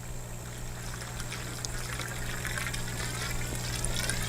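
Water pours from a gallon bottle into a garden hose, a continuous close trickling and gurgling stream that runs steadily and slightly louder toward the end, with no talking.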